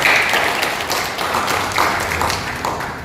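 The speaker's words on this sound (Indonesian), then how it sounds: "Kita beri tepuk tangan." An audience at a talk on workplace hazard control claps in steady, moderately loud applause for about three seconds.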